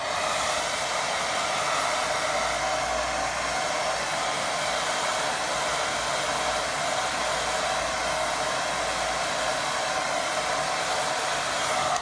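A hair dryer blows on a watercolour painting of a waterlogged path, giving a loud, steady, unbroken whir that runs the full length with no voices.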